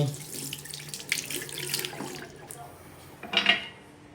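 Tap water runs steadily into a sink while dishes are scrubbed and rinsed, with a louder splashing burst near the end and faint household sounds around it.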